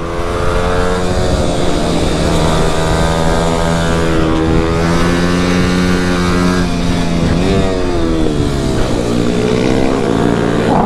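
Motorcycle ridden at speed, its engine droning loud and close with revs climbing and dropping, braking and accelerating, while wind rushes steadily underneath; no voices.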